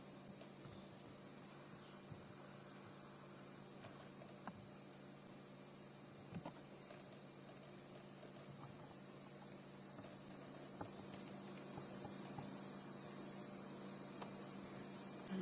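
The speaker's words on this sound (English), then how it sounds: "Lots and lots of cicadas and crickets all of a sudden." A steady high-pitched drone of cicadas and crickets fills the night air in the African bush, continuous and unbroken, with faint scattered clicks beneath and no voices.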